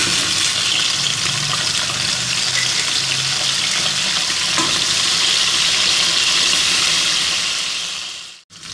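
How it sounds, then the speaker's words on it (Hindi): Taro root (arbi) drops into hot mustard oil and fries with a loud, dense, continuous sizzle up close, steady throughout before cutting off briefly at the end. "तेल हमारा गर्म हो चुका है, अब हम इसमें इन अरबियों को डाल देते हैं।"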